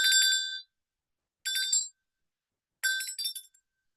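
A small bell is rung three times to cleanse crystal stones, each bright, ringing strike sharp and clear, then fading quickly into silence before the next.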